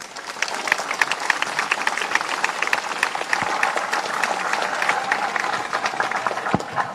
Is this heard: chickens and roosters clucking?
no